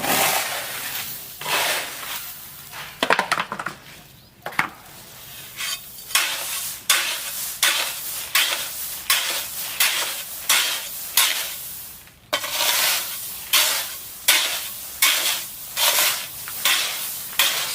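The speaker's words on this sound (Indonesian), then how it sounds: "Yang pertama kita campurkan, kita aduk bagi rata sampai warnanya itu tercampur dengan sempurna." Black and white pebble wash mix for a swimming pool being stirred, with a steady rhythm of repeated gritty scraping strokes, close and fairly loud, continuing throughout.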